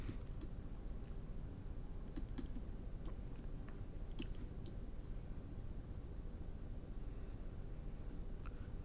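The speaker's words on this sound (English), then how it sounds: "so let me type here" Typing on a computer keyboard during a numerical methods lesson, heard as scattered soft key clicks over a steady hiss of room noise, faint and without talk.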